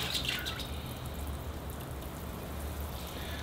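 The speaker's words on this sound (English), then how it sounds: "Here I go with the watering." Water poured over ficus bonsai trees from a greenhouse-temperature supply, a steady soft splashing and dripping that runs continuously and fairly close, with no talking.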